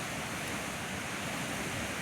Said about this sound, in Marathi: हा धबधबा आणखीन किती आक्रमक होतोय पहा. पाण्याचा नुसता असा धुकाट उडत आहे पहा.